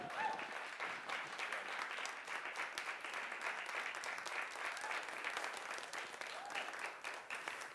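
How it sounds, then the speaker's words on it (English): A live audience at a body language show gives a round of applause, continuous thick clapping held at an even level throughout, heard from a distance and faint overall. "round of applause for Rich."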